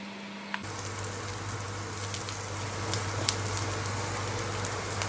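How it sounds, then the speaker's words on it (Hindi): Chillies, cumin and garlic sauté in a hot pan, giving a steady close sizzle and crackle that starts abruptly and continues evenly. "मैंने इसमें डाल दिया है 2 टेबलस्पून जीरा। इसको भी हमें थोड़ा सा चला के इसको सौते कर लेना है।"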